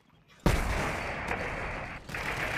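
Gunfire in the World War II mobile shooter World War Heroes: a loud, sustained automatic burst of rifle fire starting abruptly, with a brief dip before firing resumes.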